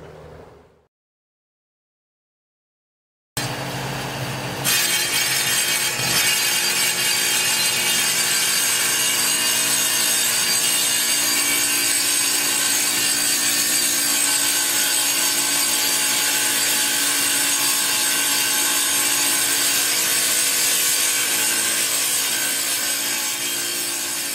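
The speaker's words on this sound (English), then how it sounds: "miter cut the front bullnose of each to 45 degrees so everything lines up in the front" A powered saw makes a 45-degree miter cut through bullnose tile for a kitchen countertop, a loud, continuous grinding whine that starts abruptly after a silent pause and holds steady for about twenty seconds.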